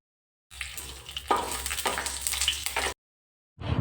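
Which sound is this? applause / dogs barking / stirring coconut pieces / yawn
stirring coconut pieces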